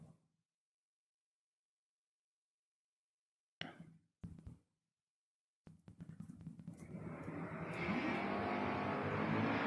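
A pickup truck launches off the drag strip starting line at a racing event, preceded by a few short bursts, then a loud, sustained engine roar that builds and stays strong to the end.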